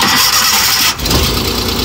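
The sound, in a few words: Suzuki Ravi pickup engine starting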